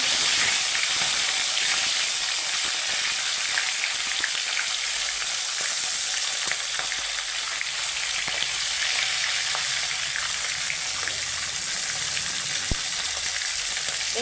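A fish head fries in hot oil with a steady, bright sizzle and hiss that holds unbroken throughout. It is close and fairly loud, with no talking.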